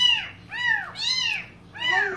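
A pet cat meows three or four times in a row, close and clear, each call a drawn-out rising-and-falling whine with short gaps between.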